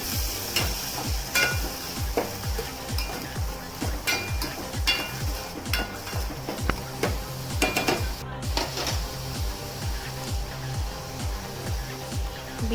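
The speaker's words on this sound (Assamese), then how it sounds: "তাৰপিছত দিছোঁ জিৰা অলপ আৰু পিঁয়াজখিনি দি দিছোঁ এনেকৈ তাৰপিছত অলপ ভাজি থাকিব লাগিব" Cumin and onions frying in a pan for egg biryani, with a steady sizzle under repeated scraping stir strokes and occasional utensil clinks, close and continuous throughout.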